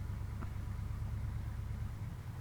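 A low, steady vehicle engine hum in the video game ArmA 3 idles throughout, even and unchanging, with no voices over it.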